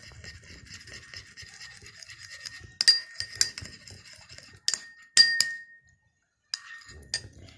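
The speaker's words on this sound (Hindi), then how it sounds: "इसको अच्छी तरह मिक्स कर लें।" Spoon clinking against a bowl while face serum is mixed, light scattered clinks and scrapes that grow sharper and louder midway, with a brief pause near the end, heard close up in a quiet room.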